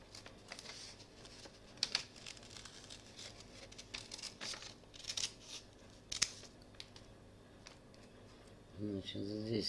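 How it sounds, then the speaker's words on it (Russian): Scissors snip out a paper pattern for a knitted baby bootee sole, quiet irregular cuts and crinkles of paper close by, with a brief voice near the end. "Так, и затем ножницами вырезаем."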